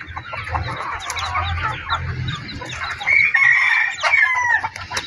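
Chickens and young chicks cluck and chirp steadily at close range for the whole stretch, with a louder burst of overlapping calls toward the end; no one speaks.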